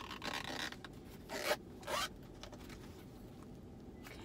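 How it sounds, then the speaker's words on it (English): A zipper on the coin pocket of a sturdy leather wallet in new condition is pulled in two quick, close strokes, with soft rubbing handling noise around them. "A zip pocket here too for your coin."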